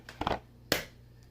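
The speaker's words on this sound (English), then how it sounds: "I'm going to crack an egg right in the middle of my bowl and mix it." An egg is cracked into a bowl of bread dough ingredients, making a brief close crack and crunch followed by a sharp tap, with no talking.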